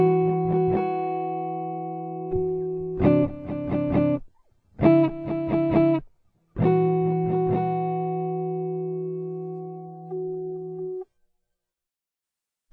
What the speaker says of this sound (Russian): В дополнительном режиме C повторы сначала звучат тихо, постепенно наращивая громкость. Это называется динамический ритм-дилей.